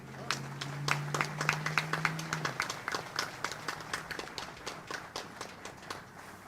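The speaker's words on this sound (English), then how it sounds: "a round of applause for today's official party" An audience claps for the official party at a Montford Point Marine Day ceremony, with sparse, uneven claps that thin out gradually over several seconds while a low tone hums underneath at first.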